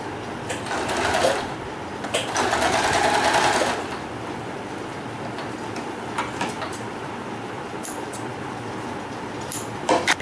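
Sewing machine stitching a satin ribbon dress, running in steady bursts that grow louder for a few seconds and then settle into a quieter hum, heard close and alone.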